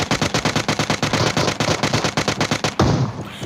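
Rapid bursts of automatic gunfire from a battle royale video game, a squad fight, hammer out in a fast, steady rhythm of loud close shots, then one heavier blast near the end.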